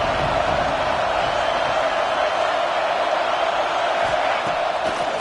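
Stadium crowd roar in the College Football 25 video game, a steady dense wall of cheering and whooping that holds at full loudness throughout, with no gaps or speech.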